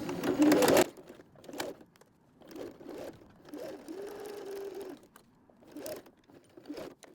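Sewing machine back stitching a velcro wallet, short bursts of rapid mechanical whirring separated by pauses, close and moderately loud, with a louder handling noise at the start.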